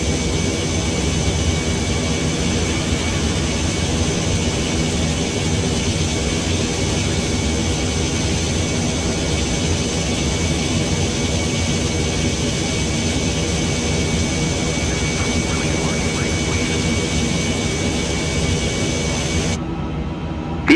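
A steady, loud airliner jet engine roar in the Microsoft Flight Simulator 2024 video game, with a constant whine held at an even level that cuts off abruptly near the end.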